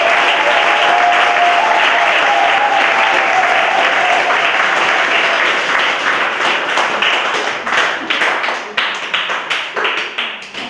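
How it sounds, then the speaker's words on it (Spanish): A congregation applauds at a Mass in a chapel in Bolondo, Equatorial Guinea. The sustained, loud clapping from a crowd thins toward the end into scattered individual claps. "Un aplauso para ellos."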